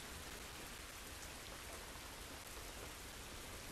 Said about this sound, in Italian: Il rumore della pioggia all'interno è sempre bello